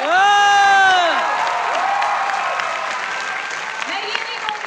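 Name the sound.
audience applauding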